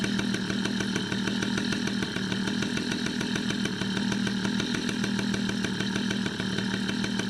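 A running MBK 51 moped engine with a welded exhaust pipe buzzes steadily and loudly through its exhaust at a constant idle-like pitch, with no talk over it.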